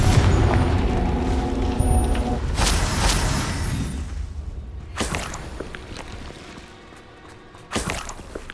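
A Confringo fire spell explodes in Hogwarts Legacy, a dense rumbling blast with whooshing bursts fading, followed by a couple of sharp, loud cracks of later impacts.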